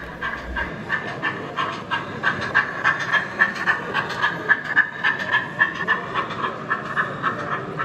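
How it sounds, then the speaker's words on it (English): Model GWR 42XX Class 4266 locomotive with DCC sound departing a station hauling two coaches on an exhibition layout, giving a steady rhythmic chuffing exhaust beat with hiss, moderately close over a busy hall background. "Here, 42XX Class 4266 now departs the station with a small working of two coaches."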